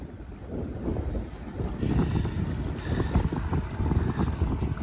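A small hand-rowed wooden boat moves along the Karli creek, with water sloshing and splashing around the hull in a steady wash, joined by gusts of wind buffeting the microphone.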